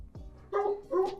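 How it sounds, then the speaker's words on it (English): A dog gives two short barks nearby, the second slightly stronger, following a soft low thud, with no talking. "Be quiet, dog."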